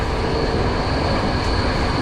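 A train in Sri Lanka rumbles past close by, loud and continuous, with rolling wheels over the rails and a faint high squeal, and no one speaking.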